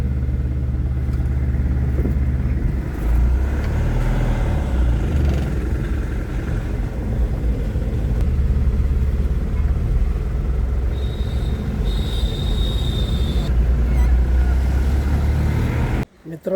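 A car driving along a road, with steady engine rumble and road noise throughout, a brief whine partway through, and talk over it before the sound cuts off abruptly at the end.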